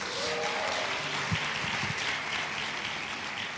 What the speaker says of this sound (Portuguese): Uma salva de palmas a quem está nos visitando hoje.